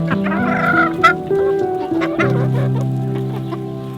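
Ayam Cemani chickens, all-black birds, clucking and calling on a farm, several close, overlapping bird calls with tonal gobbling-like sounds, no talking.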